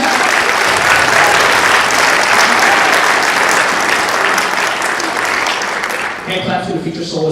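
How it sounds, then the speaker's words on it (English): A concert audience applauds senior show choir members with dense, steady clapping that stays strong for several seconds and then thins out toward the end. "So how about a round of applause for our seniors?"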